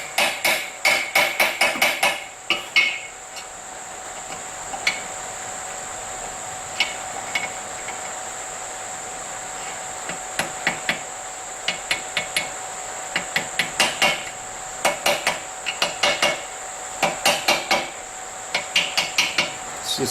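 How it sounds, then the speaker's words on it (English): Light hammer taps on the steam chest part of a Stuart Turner Number 8 model mill engine, held in a toolmaker's clamp: close, sharp metallic taps in quick clusters and single strikes throughout, over a steady faint background whine. "I'm just going to tap this down."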